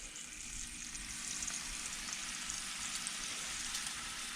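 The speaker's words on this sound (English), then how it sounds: "we're gonna flip the bacon" Bacon frying in a pan, a soft continuous sizzle with fine crackling, heard alone and fairly quietly.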